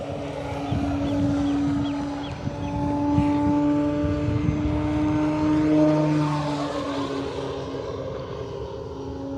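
An E-flite Carbon-Z T-28 RC airplane with a 2.0 m wingspan flies slowly overhead, its electric motor producing a steady droning whine that shifts gently in pitch as it passes at moderate distance.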